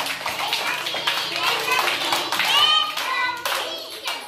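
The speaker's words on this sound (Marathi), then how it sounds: "3 टाळ्या वाजवा।" Children in a primary-school number game clap in quick, bright bursts at close range, with young voices chattering around the claps.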